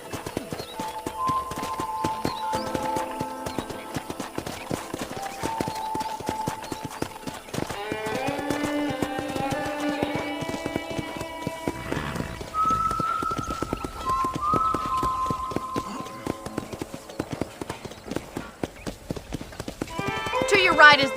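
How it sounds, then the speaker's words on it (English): Steady clip-clop of horse hooves trotting in the video game Red Dead Redemption, with a horse whinnying and people talking over it, plus occasional whistling. "I picked out a fine horse for you."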